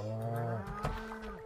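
Cattle mooing in the Stardew Valley farming game: a single long, loud low moo with a drawn-out, wavering tone that trails off, followed by a softer second call, with no talk over it.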